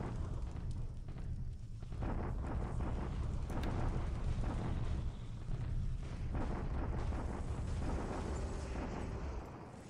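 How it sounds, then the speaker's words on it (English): Rumbling bombardment explosions from the War in the Pacific strategy game, a dense continuous roar of booming blasts that swells and eases over the whole stretch, loud and without speech. "Okay, a bombardment at Clark."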